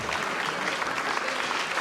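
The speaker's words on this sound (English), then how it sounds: "A clap there for Reese's guess." Studio audience at a masked singing competition show clapping for a panelist's guess, a steady dense wash of applause throughout the short moment, fairly even in loudness with no voices standing out.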